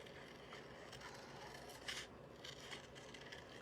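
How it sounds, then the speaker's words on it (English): Scissors making long cuts through paper for stamped snowflake card crafting, a quiet continuous rasping slice with faint periodic snips, steady and close under a low background hiss. "open your scissors pretty wide and keep cutting as long as you can before doing the, you know, reopening them basically"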